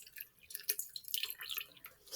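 A watery mixture of sand and soil poured slowly into a filter, faint close-up trickling and dripping with irregular small splashes, no talking.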